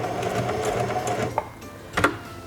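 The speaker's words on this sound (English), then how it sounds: "Press and hold the reverse lever and sew backwards a few stitches." A Singer Heavy Duty 4411 sewing machine stitches backwards in reverse, giving a fast, even mechanical whirr of needle strokes for about a second and a half, followed by two brief clicks.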